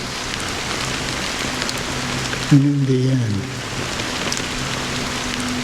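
Steady rain falls throughout a cutscene in the video game Honkai Star Rail, a constant hiss on surfaces that continues under a brief spoken line.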